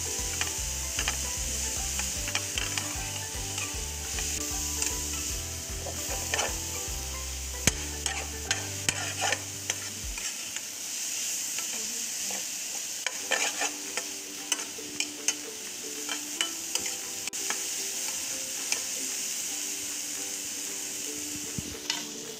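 Soya chunks are stirred in a hot pan with a steady sizzle and repeated scraping, clicking strokes of a spatula, close and continuous, while a rhythmic mechanical whir runs underneath for the first several seconds.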